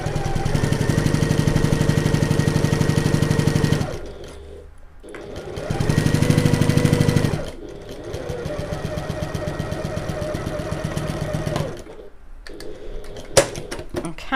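A sewing machine runs in long steady bursts while basting a bag lining seam with a back stitch: two loud runs, a brief pause, a longer run, then a short final burst close by.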